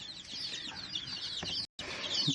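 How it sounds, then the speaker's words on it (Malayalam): Chicks hatched under a hen and in a small homemade incubator, peeping in a continuous busy chorus of high chirps close by, with a brief break near the end. "അത് രണ്ടിലും വിരിഞ്ഞിറങ്ങിയ കോഴിക്കുഞ്ഞുങ്ങളാണ്"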